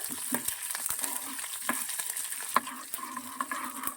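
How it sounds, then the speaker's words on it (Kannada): Cumin and mustard seeds frying in hot oil: a steady close sizzle with small pops and crackles throughout. "ಒಂದು ಕಾಲು ಟೀ ಸ್ಪೂನು ಜೀರಿಗೆ ಮತ್ತು ಸಾಸಿವೆ ಒಂದು ಕಾಲು ಟೀ ಸ್ಪೂನು ಎಲ್ಲ ಹಾಕ್ಬಿಡೋಣ ಚೆನ್ನಾಗಿದು ಎಣ್ಣೆ ಫ್ರೈ ಆಗಲಿ"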